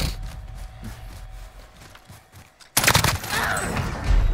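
Shotgun fire in Call of Duty Warzone: a dense burst of loud, sharp blasts erupts midway and keeps going to the end, following a quieter stretch of rumbling game noise.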